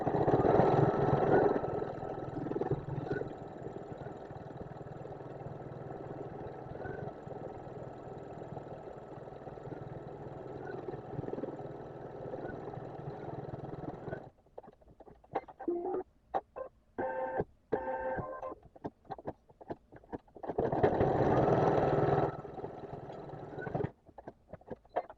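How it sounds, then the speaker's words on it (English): An embroidery machine stitches an in-the-hoop mug rug, a steady mechanical whirring hum that runs on, then breaks into short stop-start bursts of stitching near the end, with no talking. "Now it's going to stitch it into place"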